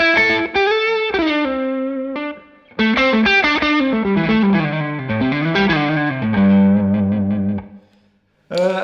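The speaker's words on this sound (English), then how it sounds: "The basic tube screamer sound is as you'd expect." A loud electric guitar through a Tube Screamer overdrive pedal, with warm overdrive, plays sustained melodic lines and bends, ringing out before a brief pause and another note.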